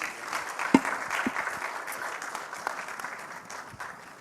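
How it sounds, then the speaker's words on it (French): An audience at a film club master class applauds itself, a moderate steady patter of many hands with a few sharper nearby claps standing out, gradually thinning. "applaudissez pour vous-même"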